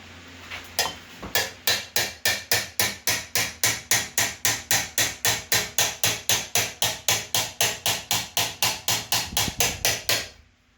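Rapid, evenly spaced hammer blows ring out on metal over an anvil horn, about three strikes per second, loud and close, continuing steadily for around ten seconds during forging.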